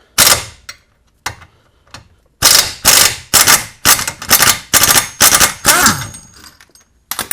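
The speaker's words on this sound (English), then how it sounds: "let's remove this bottom strut bolt" A bottom strut bolt is removed from a 2002-06 MINI Cooper with a loud, close power tool that fires in repeated rattling bursts, some short and some over a second long, separated by brief pauses.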